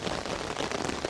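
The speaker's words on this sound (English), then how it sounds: "As we sit here in the rain," Steady rain falls at an outdoor ceremony at a military cemetery outside Paris, a continuous broadband hiss of drops on surfaces with no voices over it.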